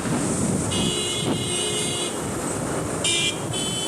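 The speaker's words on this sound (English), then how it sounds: "You can hear them tooting now because they're absolutely pissed off." Car horns toot in stalled traffic at a busy intersection, several short and longer honks over a constant rumble of idling road vehicles.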